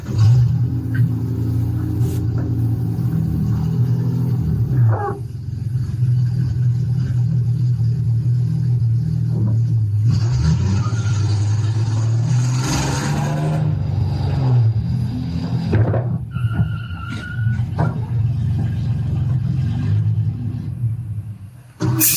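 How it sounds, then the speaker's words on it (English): A Ford Mustang accelerating and then striking a pedestrian crash-test dummy: a loud, steady engine rumble builds and revs throughout, with sharp bangs and scraping noise in the later half. "we have a Mustang that's being accelerated, and then it's impacting a pedestrian, a rescue Randy that's being held together"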